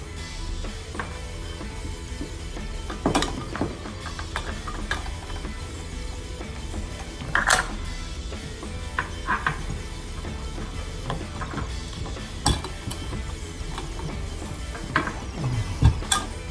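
On a tub diverter spout fitting, a wrench clicks and scrapes at close range in scattered metallic ticks and ratcheting bursts, set against a steady low background hum, with no voices.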